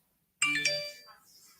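A phone notification chime rings out once after silence, a bright bell-like ding with a ringing decay that fades over about a second, close and alone.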